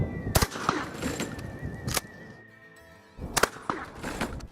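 A slug fired from a shotgun, two sharp loud reports close by with ringing decay, a quieter gap, then another pair of cracks, with no talk.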